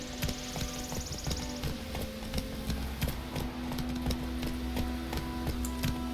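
Horse hooves in The Witcher 3: Wild Hunt, a steady rhythmic clip-clop of many sharp knocks over low game ambience and faint tones, moderately close, with no speech.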